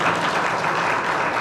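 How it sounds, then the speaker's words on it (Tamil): An audience at a leadership seminar claps in a steady, dense wash of applause, close and continuous throughout with no voices above it. "கைத்தட்டலாம் இதுக்கு தைரியமா"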